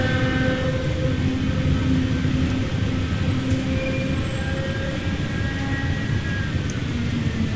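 An AP Class 411/412 third-rail electric train runs steadily between Southampton and Bournemouth, heard from inside as a continuous loud rumble with faint motor whine and no talking.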